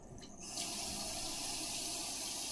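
Water gushing from a faucet fed by a Seaflo 55 series pump with an accumulator, starting abruptly after a short quiet moment, then flowing as a steady close hiss.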